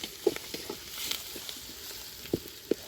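Pounded ginger and garlic fry quietly in a pan for a country chicken chilli fry, a soft steady sizzle broken by a few sharp stirring clicks and scrapes, close up with no talking.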